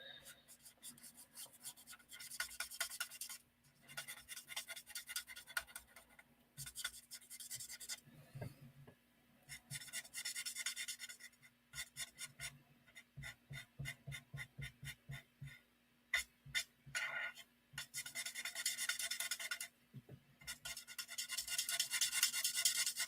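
Soft scratchy strokes of a pencil adding shading accents over a stamped card, heard in quiet repeated bursts with pauses and low background hum.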